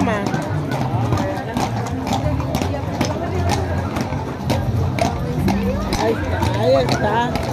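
Horses' hooves clatter continuously on pavement during a night cavalcade in the Altos de Jalisco, a busy rhythmic clip-clop mixed with crowd chatter and voices throughout.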